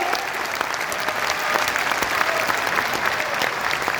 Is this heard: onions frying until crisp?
no